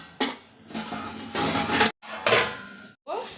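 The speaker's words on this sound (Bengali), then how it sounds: "একটু জল দিলাম, বেশি দেবো না, শাকটা এমনি টাটকা শাক। এবার আমি ঢাকা দিয়ে দেবো।" A lid set onto a cooking pot of fresh pumpkin greens, giving several close metallic clanks and scrapes in short bursts separated by brief quiet gaps.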